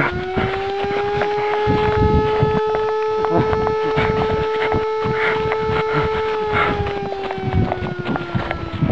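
A loud, steady siren wails outdoors, holding a sustained tone before dipping slightly, over constant rushing wind noise and rumble.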